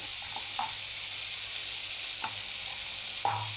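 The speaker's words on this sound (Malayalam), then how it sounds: "ഇനി നന്നായിട്ട് ഒന്ന് വഴറ്റാം." Soya chunks sauté in a pan with pepper powder and masala powder, giving a steady, moderately close sizzle with a few soft stirring clinks and scrapes of a spoon against the pan.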